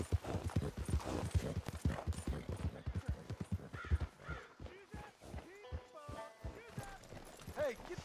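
Rhythmic clip-clop of horse hooves on hard ground, with voices talking and a brief higher vocal call near the end.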